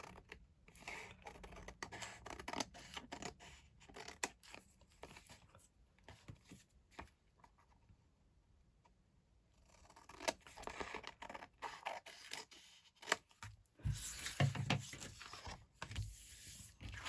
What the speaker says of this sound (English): And then we just need to cut these pieces off.